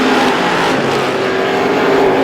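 Stock race cars at Star Speedway, a short-track heat race, roar down the back stretch on the final lap, their engines loud and steady, droning together with no voice over them.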